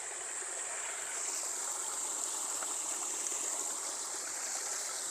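A steady, broadband rush of water from a waterfall stream, continuous and fairly close with no breaks, the flow hissing evenly throughout with no voices over it.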